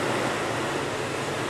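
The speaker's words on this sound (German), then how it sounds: "Riesengroße Wellen." Rough, pounding sea off Malta heard from a balcony, a dense, continuous roar of surf and breaking waves filling the clip with no voices.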